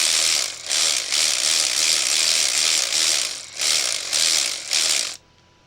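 A Ryobi PCL280 cordless ratchet running in reverse gives a loud, steady buzzing whir from close by, with several brief dips and surges before it cuts off sharply.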